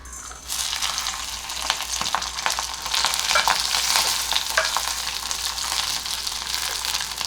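Garlic cloves, chopped ginger, poppy seeds and a bay leaf fry in hot oil in a pan for a soya chunk curry, giving a steady, fairly loud crackling sizzle that starts abruptly and carries on throughout with occasional stirring scrapes.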